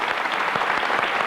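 A studio audience at a Spanish television show applauds for a guest, a steady, dense wash of clapping filling the whole moment with no voices over it.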